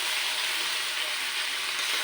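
Chicken coated in garam masala paste fries in a pan, giving off a steady, close sizzle and hiss with no breaks over the short stretch.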